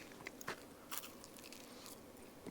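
Crunchy hot food with a filling, eaten at an off-grid car camping site, is bitten into close up, giving a few sharp crisp crunches followed by quieter chewing, all faint and without talk.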